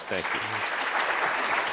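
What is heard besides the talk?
applause for the panel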